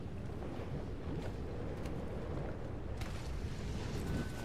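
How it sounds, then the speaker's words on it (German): Steady outdoor wind in Apex Legends, a faint broad rushing whoosh that holds evenly throughout with no talk over it. "Das ist aber auch natürlich ein Wind draußen."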